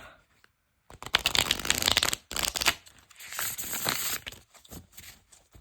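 A new tarot deck is riffle shuffled and bridged by hand, a close crisp burst of fluttering cards followed by a second riffle and softer shuffling, with no talking.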